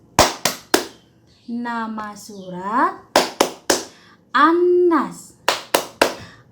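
Crisp, close claps land in rhythmic groups of three, alternating with a child's sung or chanted phrases in a classroom-style clapping game for a Quran surah, the hand claps sharp and loud between the voice.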